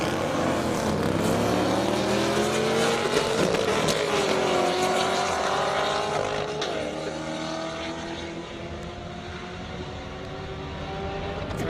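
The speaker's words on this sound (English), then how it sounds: "Trackhawk doing what it's supposed to do. Towing the competition all the way down to the end" A Jeep Trackhawk drag racing down an airstrip roars loud and close, its engine note climbing through gear changes and then fading as it pulls away, with a second car audible alongside.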